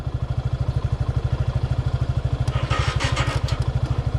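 A motorcycle engine runs steadily nearby, its low, even exhaust pulses thumping at a fast regular rhythm for the whole stretch, with some faint higher clatter and noise partway through.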